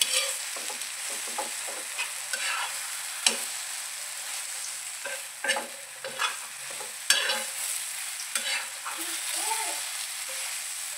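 Eggplant bharit mixture is stirred and roasted in a pan, with irregular scraping and tapping strokes over a soft constant sizzle and a few faint voice traces.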